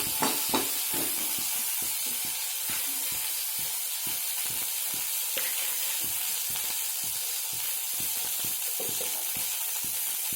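Brahmi leaves frying in a pan, a soft continuous sizzle with faint rhythmic stirring clicks running through, fairly quiet and without talk.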